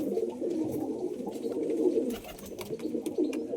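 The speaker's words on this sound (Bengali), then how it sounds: "এই পায়রাগুলো সব দেখতে পাচ্ছ।" Pigeons coo continuously and fairly close, with overlapping low throaty calls and some wing or shuffling noise, no talk.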